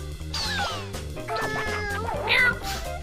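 A cat meows repeatedly in the video game Katamari Damacy REROLL, several rising and falling calls over steady rhythmic game music.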